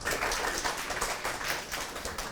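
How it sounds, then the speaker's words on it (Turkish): Middle school classmates applaud a student in a drama session, a short continuous patter of many hands clapping at moderate volume. "Arkadaşımız için alkışları alalım."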